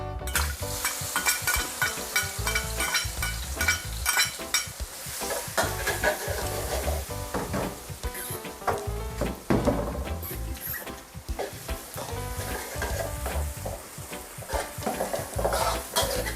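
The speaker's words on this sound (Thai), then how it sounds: "น้ำมันร้อนแล้วก็ใส่กระเทียมลงไปเลยค่ะ" Chopped garlic dropped into hot oil for Thai fried garlic, crackling and sizzling loudly while a utensil stirs and scrapes the pan in frequent uneven strokes, with no talking.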